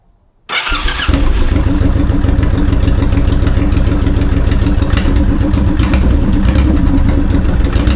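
A car engine starts after a repair and settles into a steady idle, loud and close, running evenly without a break and with no one talking over it.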